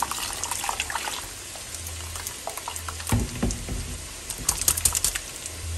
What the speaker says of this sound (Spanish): Le agrego un poquito de agua nada más para enjuagar.